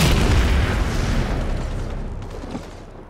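A planted bomb detonates in the shooter game Halo MCC, giving one loud, deep boom that rolls into a fading rumble, with a small pop near the end.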